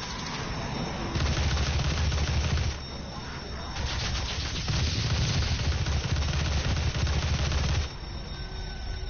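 An assault rifle firing in the video game DOOM in sustained rapid bursts. Two long stretches of continuous fire sit close and loud over a low rumbling game background, with a short pause between them.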